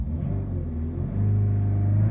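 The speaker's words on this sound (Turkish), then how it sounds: "Gaz veriyorum." A Citroen C-Elysee / Peugeot 301 car engine revs up from a steady idle, its low rumble rising and holding louder near the end.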